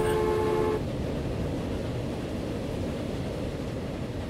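A train in the Transport Fever video game sounds a short horn blast that cuts off, then its rumbling, rolling wagons continue as a steady low noise.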